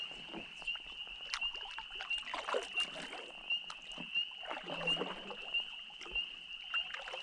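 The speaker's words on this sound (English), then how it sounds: "I'm gonna paddle over here by these laydowns here" Kayak paddling on Fern Lake, soft rhythmic paddle strokes and water splashes repeating about every second, fairly quiet and close, with a constant high insect or frog drone across the background.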